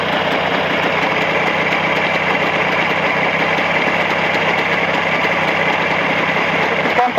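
An engine with Chinese cylinders and contact ignition runs during break-in in +40 degree heat, a loud, even, buzzing drone with a fast mechanical patter that holds steady throughout.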